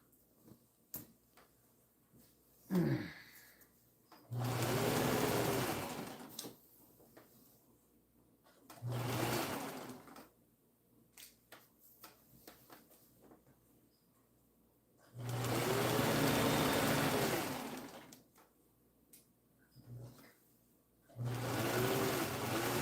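Household sewing machine stitching in several separate bursts of a few seconds each, a close, steady whirring hum that starts and stops, with quiet handling clicks and rustles between runs.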